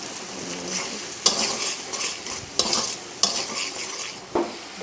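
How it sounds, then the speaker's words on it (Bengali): Spice masala with tomato and salt frying in a pan for a sweet pumpkin curry, a steady close sizzle broken by several sharp scrapes and knocks of stirring, with no talk. "মশলা কষানো হচ্ছে, টমেটো, স্বাদ মতো লবণ দিলাম, নেড়ে দিলাম।"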